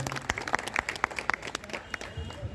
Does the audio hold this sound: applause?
yes